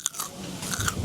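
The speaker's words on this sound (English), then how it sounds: "Wait till you hear the crunch on these green beans." Crunchy green beans bitten and chewed up close at a high-end restaurant meal, a few crisp crunches and chewing sounds in a short burst with no talking.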